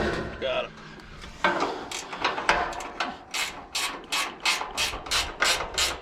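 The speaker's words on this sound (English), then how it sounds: "I ended up just using a ratcheting wrench" A ratcheting wrench turns bolts on an abandoned generator, its steady run of rasping clicks settling into an even rhythm, close and fairly loud, with a few brief handling noises at the start.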